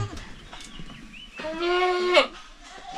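Hungry goats on a farm bleat in loud, wavering calls, with a long nasal cry near the middle and a few shorter bleats and faint rustling around it.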